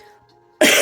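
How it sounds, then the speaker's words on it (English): A single short, sharp cough bursts out close to the microphone after a near-silent moment with faint background hum. "I may cough a little bit in your ear"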